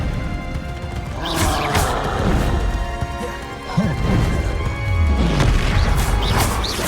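Bombarda blasting spell from the Hogwarts Legacy video game, heard as a series of loud booming crashes and bursts over a dense, continuous battle din, with a heavy impact near the middle and another rumbling blast toward the end.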